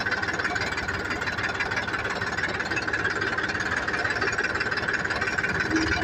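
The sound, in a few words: tractor engine running while onion sacks are loaded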